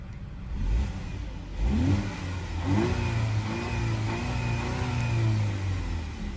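A black 2025 VW Atlas Cross Sport SEL R-Line AWD engine revving in sport mode, rising in a couple of strong pulls and then holding a steady mid-pitched drone, close and alone.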